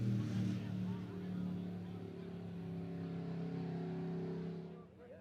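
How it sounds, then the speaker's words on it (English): Midwest Mods dirt track race cars rumble out onto the track for a heat race at North Central Arkansas Speedway, a steady blended drone of several idling and lightly revving engines that fades near the end. "Midwest Mods heat race number 4 making their way out on the track"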